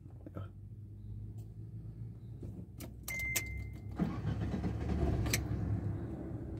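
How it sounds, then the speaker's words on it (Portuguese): A Fiat Strada pickup's engine cranks and starts while in neutral, a short whirring crank followed by a steady low idle rumble settling in close by, with no talking. "Vamos ligar o carro."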